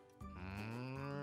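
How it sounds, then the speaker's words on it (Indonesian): A single drawn-out cow moo, low and resonant, rises after a brief quiet start and holds steady, heard close and alone. "Bagaimana suara sapi?"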